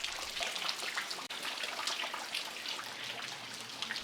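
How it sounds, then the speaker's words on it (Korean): Steady rain patters and drips around an old traditional Korean house, a dense, even wash of droplets continuing throughout at moderate distance with no voices. "비가 옵니다."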